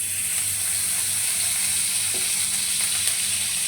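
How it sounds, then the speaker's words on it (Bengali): Beef tripe frying in beef fat in a wok, a steady close hiss and sizzle with faint stirring scrapes throughout. "এখন গরুর চর্বির সাথে গরুর ভুঁড়িটা ভাজা ভাজা করব।"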